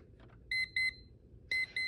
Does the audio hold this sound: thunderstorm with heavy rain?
no